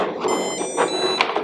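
A buzzer on a DIY automatic hand sanitizer dispenser kit sounds steadily, a thin high electronic tone held throughout over faint background noise, with no motor running.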